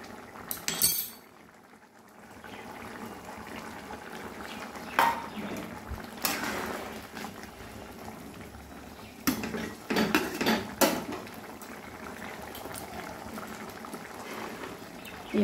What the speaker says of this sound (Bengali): খানিকক্ষণ একটু ফুটিয়ে নেব।